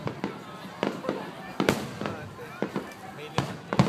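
Fireworks at a summer display in Toda Park, Japan, bursting in a series of sharp, loud booms at an irregular pace, with crowd voices and chatter faintly under the explosions.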